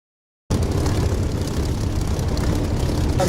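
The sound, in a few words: Spitfire aircraft engines in DCS flight simulator video game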